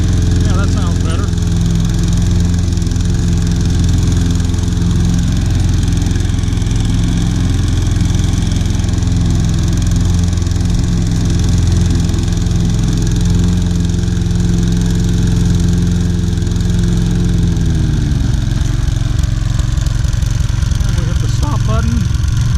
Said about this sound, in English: Let's engage the blade and see if it smooths out some.